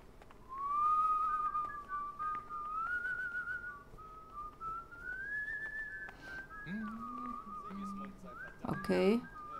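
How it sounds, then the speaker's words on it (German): A whistled tune plays in the video game Kingdom Come: Deliverance, a clear, steady melody running nearly the whole time, with a brief low vocal sound and a burst of clatter near the end. "Vollgefuttert im Bauch klingt auch das Gepfeife deutlich besser."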